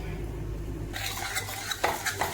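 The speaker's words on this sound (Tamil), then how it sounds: "இதை நல்லா மிக்ஸ் பண்ணி விட்டுக்கோங்க." Mango pickle is mixed in oil with chilli powder, asafoetida and salt, heard as close, wet stirring and scraping in a pot that starts after a short quiet moment, with a few sharper clinks toward the end.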